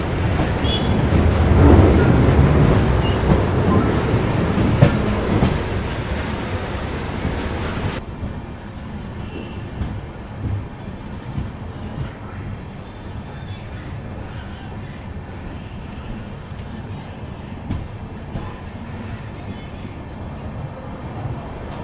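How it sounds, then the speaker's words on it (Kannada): The Amrit Bharat Express runs on the line between Alipurduar and Bengaluru, a loud rumble of wheels on rail near the start that drops to a steadier, quieter rolling with faint rhythmic clicks as another train departs. "ಅಲ್ಲೊಂದು ಟ್ರೈನ್ ಇದೆ, ಇಲ್ಲೊಂದು ಡೆಪಾರ್ಟ್ ಆಗ್ತಿದೆ"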